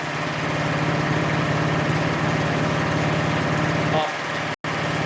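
A Honda HSS928AT snowblower engine runs at lowered throttle, a steady low chugging hum close by that stays even, then briefly cuts out near the end before resuming; a voice talks over it.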